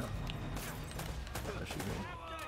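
Enemies shoot guns in Uncharted, a faint, scattered run of shots and clatter mixed into a busy game soundscape with music, with voices heard throughout.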